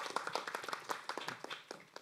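A small audience at a cultural city forum claps in a brief, faint patter of distinct individual claps at moderate distance, with no talking over it.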